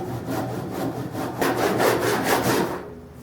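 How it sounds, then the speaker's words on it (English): A cross-cutting hand saw rasps through a wooden beam, loud close rhythmic push-and-pull strokes in quick succession, fading out at the end with no talking. "We are going to use the cross-cutting saw for this."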